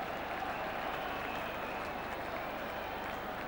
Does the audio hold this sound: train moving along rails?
no